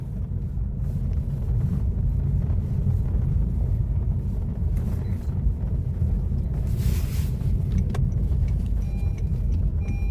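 A Honda Fit with a newly installed original clutch rolls along on the road, a steady low engine and road drone filling the interior, with faint wind noise and no talking.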